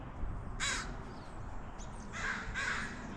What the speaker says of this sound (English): there's a fourth crow here